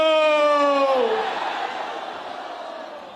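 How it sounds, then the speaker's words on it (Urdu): At a Pakistan Peoples Party rally in Hyderabad, a crowd roars in response to a chanted slogan, a loud mass of voices that fades gradually over a few seconds. "نعرے بھٹو۔"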